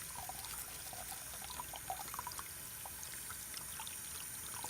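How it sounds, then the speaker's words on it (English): Dentures rinsed under a running tap, a steady, faint hiss of flowing water with light splashing throughout and no talking. "Once you've brushed all areas, you're ready to rinse them off."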